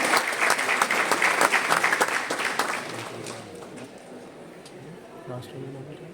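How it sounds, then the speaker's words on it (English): An audience at a formal government function gives a round of applause for the speaker, dense clapping that fades after a few seconds into quiet room noise with faint voices. "Let's have a round of applause for the speaker."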